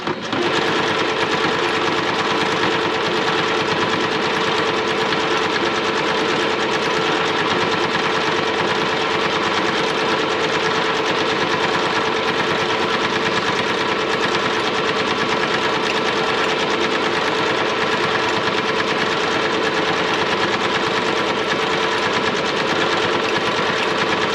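A sewing machine stitches a pattern fast and steady, its rapid mechanical stitching humming continuously and loudly for the whole stretch without pause.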